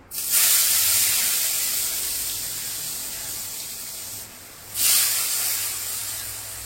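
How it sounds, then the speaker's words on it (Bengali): Pointed gourd and potato pieces hit hot oil in a pan with a loud, steady hiss that fades slowly, then swells again as more go in, close and without voices. "পটলটা আলুটাকে ভালো করে ভেজে নিতে হবে।"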